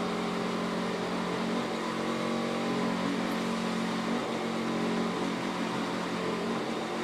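NASCAR stock cars circle in formation behind the pace car before a race restart, making a steady, dense engine drone that stays level and continuous throughout, with no talk.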